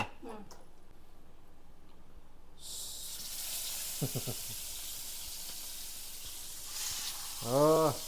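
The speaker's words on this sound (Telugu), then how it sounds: "దాంట్లో ఇప్పుడు ఆయిల్ వేసి మనం ఫ్రై చేయాల్సిందే" Fish pieces fry in oil on a tawa, a steady close sizzle that swells at about 2.6 seconds and keeps hissing, with brief voices talking over it.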